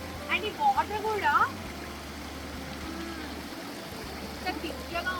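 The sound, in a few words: water flowing at mini waterfall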